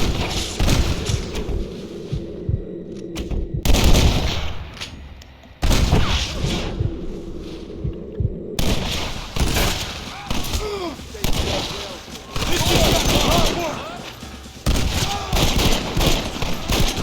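Gunfire and explosives during a gate assault in the Red Dead Redemption video game: loud overlapping shots and booming blasts in bursts, with brief lulls and shouted voices mixed into the battle.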